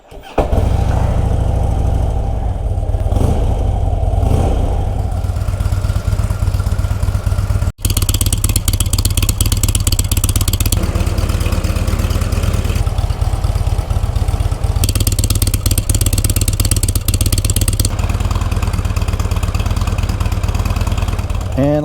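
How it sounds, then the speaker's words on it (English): A motorcycle engine cranks on the starter with the clutch pulled in, catches and settles into a loud, steady idle close by, the rumble running continuously with slight shifts in pitch. "We put the bike into the run position, and then we hit start."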